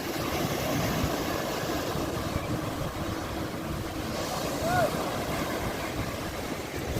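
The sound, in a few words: waves on the sea shore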